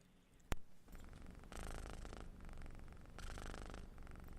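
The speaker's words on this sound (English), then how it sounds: "We got a sweet, purring, snoring kitten here." A kitten purrs up close, soft rhythmic rumbling in slow pulses, preceded by a brief sharp click.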